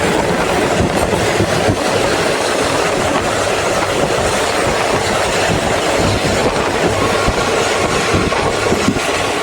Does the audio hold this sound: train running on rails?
yes